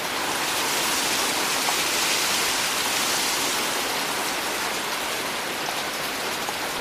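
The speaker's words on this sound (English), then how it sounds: "This is from the rain sound story." Steady, dense rain hiss from an Ecotones ASM1002 sound and sleep machine's rain setting, continuous and even in level throughout with no voices.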